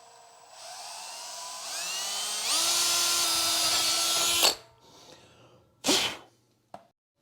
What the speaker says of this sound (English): we'll drill our first hole